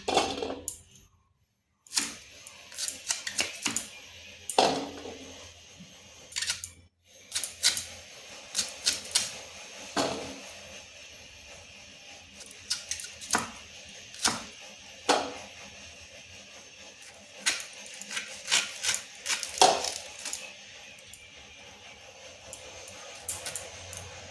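A knife cuts peeled raw mango for a mango oil pickle, making a long run of sharp, crisp chopping taps in uneven clusters with a couple of short pauses.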